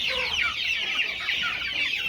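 A flock of two-month-old poultry chicks, about three hundred birds in a farm house, keeps up a dense, continuous chorus of high peeping and clucking, steady and close with no talking.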